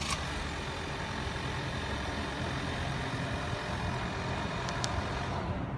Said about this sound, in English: We'll remote start the car by hitting the lock button once